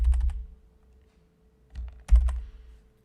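Typing on a computer keyboard, with short clusters of crisp key clicks separated by a pause, close and fairly quiet, with no voices.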